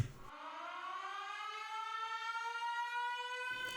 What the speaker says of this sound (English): the only thing different at the end of it, sort of one-shot siren sound